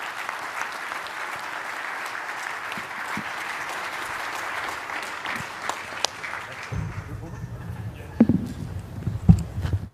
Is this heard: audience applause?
yes